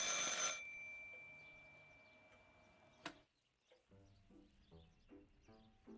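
A telephone rings in the game Martha Is Dead with one bright, electronic trill that quickly fades. Quiet ambient tones and soft thuds follow.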